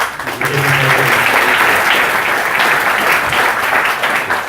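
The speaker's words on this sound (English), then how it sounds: "let's give these guys a round of applause" Applause from the audience at a Startup Grind startup talk event in Cape Town, a steady full burst of clapping from many hands in a room, with no talking over it.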